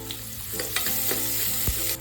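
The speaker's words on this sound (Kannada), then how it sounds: "ಒಂದೇ ಒಂದು ಈರುಳ್ಳಿನ ಸಣ್ಣದಾಗಿ ಕಟ್ ಮಾಡಿ ಹಾಕೊಳ್ತಾ ಇದ್ದೀನಿ" Hot oil sizzles steadily up close as finely chopped onion fries for a goat head curry, with a few scraping stirs and a soft clink cutting through the constant frying hiss.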